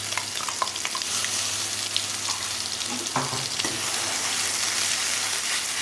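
Ground cauliflower-leaf paste frying in a pan with tempering spices, a loud continuous sizzle close by with occasional scraping strokes as it is stirred, no talking.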